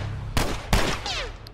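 Two sharp gunshots ring out in The Last of Us Remastered during a firefight, a little apart, loud and close, followed by a brief whistling ricochet-like tail.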